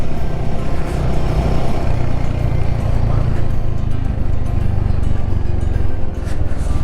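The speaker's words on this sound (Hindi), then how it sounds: "और बाइक चल रही है मक्खन की तरह।" Motorcycle riding off-road along a river in Ladakh, a steady loud engine drone with rumbling and wind noise throughout, no clear talk.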